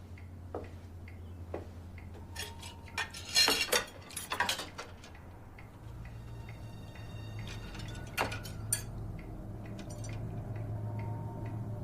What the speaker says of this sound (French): Bon, eh bien, je vais aller faire la vaisselle.